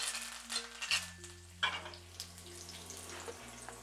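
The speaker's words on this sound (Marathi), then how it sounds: "कढीपत्त्याची पानं घालायची" Curry leaves crackle and sizzle as they hit hot tempering oil on a lowered flame. The popping comes in short bursts over a steady low hum.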